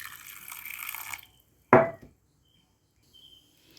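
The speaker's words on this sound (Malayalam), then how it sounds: "പിന്നെ ഈ മാങ്ങ വേകുന്നതിനായിട്ട് കുറച്ച് വെള്ളം ഒഴിച്ച് കൊടുക്കാം." Water poured into a pan of raw mango pachadi with a pinch of salt, so the mango can cook: one short, close splash, preceded by a soft hiss and followed by quiet.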